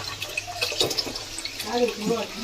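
Water runs from a tap in a steady splashing stream, with a voice speaking briefly over it.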